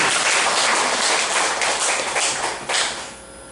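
An audience claps together in a large hall, a dense, loud burst of applause that holds steady and then thins out toward the end.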